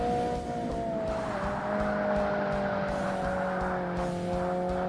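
A rally car slides through a point-to-point all-wheel-drive event in Forza Motorsport on the Xbox, its loud, steady engine drone holding throughout with a light scrub of tires underneath and no voices.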